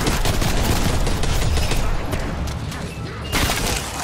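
Rapid tactical rifle gunfire in the Black Ops Cold War zombies video game, a dense, loud fusillade of close shots with mechanical clatter, pausing briefly before another burst.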